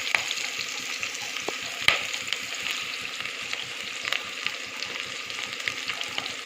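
Onions and tomatoes cooking with salt in a pan, a steady close sizzle with faint, regular ticking underneath and an occasional sharper crackle.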